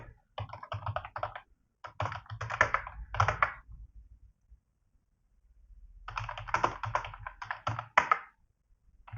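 Typing on a computer keyboard while entering commands during a software installation, with two bursts of rapid close-up key clicks separated by a pause.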